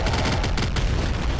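Video-game gunfire from the roguelike shooter Nuclear Throne comes as a rapid stream of sharp, punchy shots in quick, uneven succession, loud and close with no talk over it.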